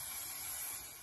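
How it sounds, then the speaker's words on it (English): Spray adhesive hissing from an aerosol can onto plywood boards for a model motor yacht build, one brief, steady, faint hiss with nothing else heard. "So I'm using a spray adhesive, which is quite good for this"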